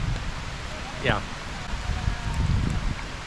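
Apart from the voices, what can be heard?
heavy rain falling on a farm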